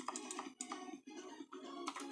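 A name being typed on a computer keyboard, key clicks in quick bursts with brief pauses, steady and close with no talking.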